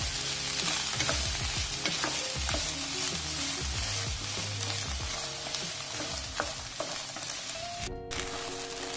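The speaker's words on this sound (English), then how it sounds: "We will saute this till the onions are a little bit" Onions sautéing in a pan for a tawa-grilled butter chicken dish, a continuous close sizzle with repeated stirring scrapes and clanks of a spatula, one sharp knock near the end, no talking.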